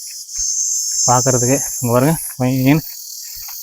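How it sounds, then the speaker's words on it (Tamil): Insects in a hill forest at Kutti Vathal Malai keep up a loud, steady high-pitched drone throughout, while someone talks over it in short phrases. "அது வந்து இந்த வண்டு சத்தம்லாம் செம்மையாக காதை கிளிக்குது"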